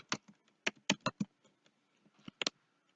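Someone typing on a computer keyboard during an Ubuntu install, quiet close key clicks in small irregular bursts separated by brief gaps.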